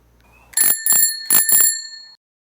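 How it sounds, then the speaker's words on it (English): A bicycle bell rings four times in two quick pairs, bright and close, with a clear metallic shimmer after each strike. "There he is, cycling his bicycle, and rings the bell attached on the bicycle."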